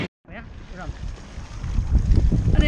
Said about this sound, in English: And here we are, on the jet ski, about to have a razz.